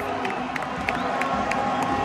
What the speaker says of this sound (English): The Iranian fans, they're getting fired up.